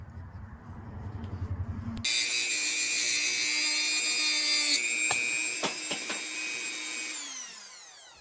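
A power tool bites into a salvaged Schrade knife handle, cutting off part of it. A loud high-pitched whine starts abruptly after a short quiet stretch, runs steadily for several seconds with a few knocks, then winds down.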